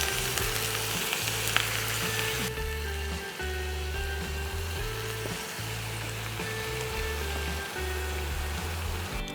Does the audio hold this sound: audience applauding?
no